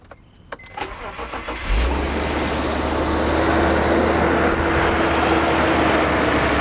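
A BMW E46 car engine is cranked and fires up at about 1.7 seconds after a few clicks and starter bursts, then settles into a steady, loud idle with no surging.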